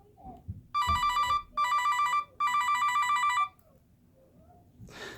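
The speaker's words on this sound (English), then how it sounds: "the on-call phone's ringer" An on-call phone plays a Misty Mountain ringtone in three loud, bright chiming bursts, each lasting under a second with short gaps between, standing alone against a quiet background.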